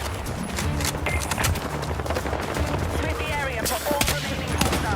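Rapid automatic gunfire in Battlefield 6 rattles in dense bursts throughout, loud and close with sharp cracks and mechanical clatter, while a voice speaks excitedly over the shooting.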